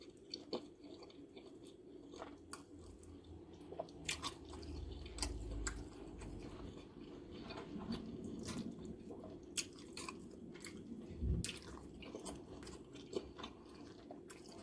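Someone chews a mouthful of cassava fufu (akpu swallow), making soft wet squishing and munching close to the microphone, quiet and steady, with occasional small clicks.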